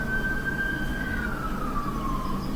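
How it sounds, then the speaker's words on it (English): A police car siren wails in a single drawn-out tone that slowly slides lower, heard at moderate distance over a low background rumble. "there goes the police sirens again"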